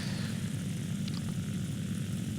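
A propeller aircraft engine drones inside War Thunder, a steady, loud, dense low roar with a thick rumbling body and a faint airy hiss above it. The sound holds constant throughout, with no talking over it.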